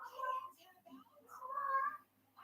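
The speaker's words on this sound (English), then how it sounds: "Hush up, cat." A house cat meows twice, faint and drawn out, the two calls separated by a short pause in an otherwise quiet room.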